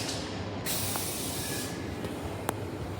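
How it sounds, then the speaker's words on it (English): Small two-car passenger train at North Fremantle station at night: a steady broadband rumble and hiss runs throughout, with a sharp brief hiss of air and a short click near the end. "So here's this train."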